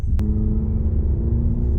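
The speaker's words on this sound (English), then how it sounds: "when you're in sport mode, the engine accelerates better, the throttle response is much sharper" A 2020 Cadillac CT5 Premium rear-wheel-drive sedan accelerates in sport mode, its engine giving a deep, steady rumble close by, with a single sharp click near the start.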